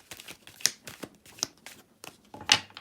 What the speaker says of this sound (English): We'll just shuffle it, see what it wants to say.